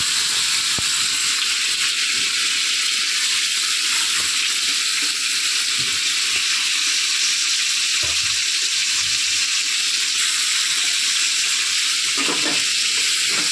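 Steady, dense sizzling from taro stalks frying in a pan, continuous throughout with a few faint clinks and stirring sounds, no voices.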